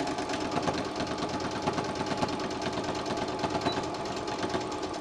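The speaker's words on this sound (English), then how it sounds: "Now I'm flipping it and I'm sewing from the corner to the corner." Small Brother sewing machine stitching a fabric bowl cozy from corner to corner, a close, steady mechanical whir with a rapid even needle rhythm running throughout, no voices.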